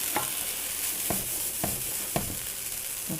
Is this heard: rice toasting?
yes